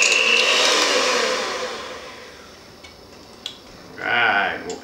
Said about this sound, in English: So we're gonna beat the whites until they're stiff.